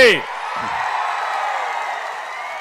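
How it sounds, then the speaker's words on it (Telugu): Crowd at an outdoor political election rally clapping and cheering, a dense, steady wash of applause that swells right after a brief shout and holds evenly at close, loud level to the end. "గెలిపిస్తామని గట్టిగా చప్పట్లు కొట్టి"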